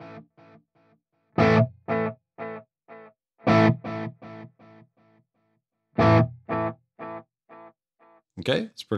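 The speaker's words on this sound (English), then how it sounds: "So we got a core note on the tape echo, then a dotted eighth on the digital delay." Electric guitar played through a Tone Master Pro, with a tape echo and a dotted-eighth digital delay: short struck notes return as a string of fading repeats, then a brief burst near the end.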